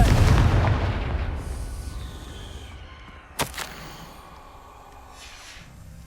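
The Confringo explosion spell in the video game Hogwarts Legacy sets off a heavy, booming blast that slowly fades out, followed by a sharp crack partway through.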